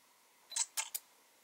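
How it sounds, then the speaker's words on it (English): Shutter clicks from a Canon G1X Mark II compact camera, three short crisp snaps close to the mic with brief gaps between them, against an otherwise quiet room. "so we can hear the shutter."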